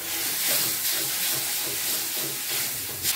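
Spice paste sizzling in a pan for a Bengali sour fish curry with green mango, a steady close hiss of frying held throughout with faint soft pops.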